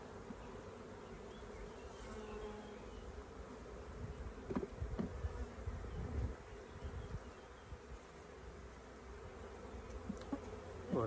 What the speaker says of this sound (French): les abeilles sont très gentilles, elles ne me connaissent pas, on ne s'est jamais vu